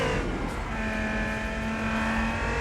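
A car engine in the Wilder World street racing video game holds a steady, loud drone with a sustained tone, the engine note rising slightly as it accelerates.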